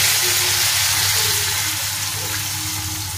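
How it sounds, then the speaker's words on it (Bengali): Cold milk poured into a hot pan of spiced chilli paneer masala, giving a steady rushing hiss with soft sizzling underneath, continuous and close for a few seconds with no talking. "এবার দিয়ে দেবো দুধ"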